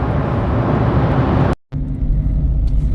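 A car cruising on a British motorway at around 70 mph, heard from inside as a steady, loud broadband road and engine rumble, with a momentary dropout to silence midway before the drone resumes.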